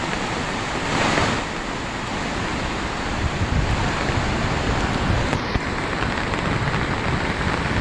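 Flooded river in Dharampur, swollen above the danger mark after five hours of torrential rain, roaring as a steady broadband rush of churning water with no voices, loud and continuous.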